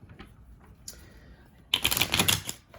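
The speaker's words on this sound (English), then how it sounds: "Let me just shuffle one more time" Tarot cards shuffled in a quick, crisp riffling burst that starts abruptly partway through, close and fairly loud after a quieter stretch with faint rustles.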